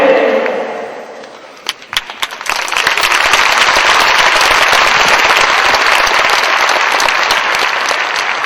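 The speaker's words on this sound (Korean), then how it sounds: "우리 다시 한번 우리 강사 목사님에게 뜨거운 감사의 박수 다시 한번 부탁드리겠습니다" A church revival audience breaks into loud, sustained applause for the visiting pastor, starting with scattered claps and swelling into a dense, steady ovation that fills the hall.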